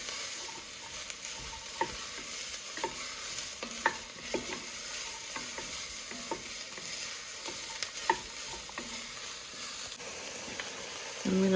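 Carrots and celery sizzle steadily in a soup pot, with a continuous frying hiss broken by repeated scraping and clinking as a utensil stirs them, close and fairly loud throughout.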